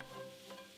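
Brief burst of onions sizzling in a pan, a close crackling hiss with a light scrape of stirring.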